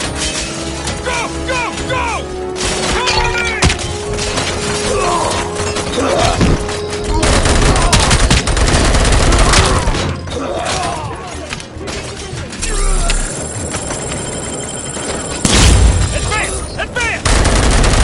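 Sustained, heavy gunfire from a Robocop action scene, with dense automatic bursts, booming shots and mechanical clatter going almost nonstop at close range. Shouting voices can be heard under the shooting.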